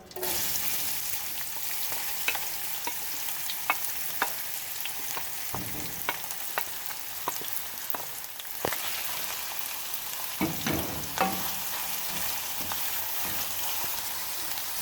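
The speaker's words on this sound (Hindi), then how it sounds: "प्याज को हम थोड़ा सा लाइट ब्राउन कर लेंगे।" Finely chopped onions fry in ghee in a pan with a steady, soft sizzle, broken by scattered clicks and scrapes from stirring.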